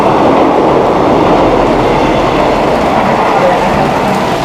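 A commuter train rumbles past at close range on the Jogja–Solo line, a loud continuous roar of wheels and rails with a rushing, clattering texture throughout.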